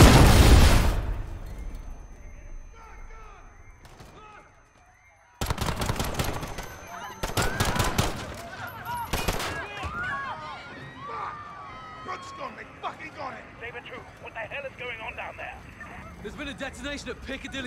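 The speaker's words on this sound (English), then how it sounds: "At Piccadilly Circus, shots fired, officers down" Rapid automatic gunfire erupts in loud, dense bursts during a Call of Duty: Modern Warfare firefight at Piccadilly Circus in London, after a quiet stretch, with shouting voices and chaotic battle noise continuing around the shots.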